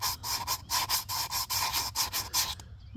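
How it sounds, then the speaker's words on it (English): Hand sanding of primer with 220 grit sandpaper on an Aerotech Sumo model rocket, a close, steady rhythm of about a dozen rasping back-and-forth strokes that stops abruptly near the end. "I'm just gonna use the 220 pretty much to knock off all those bumps"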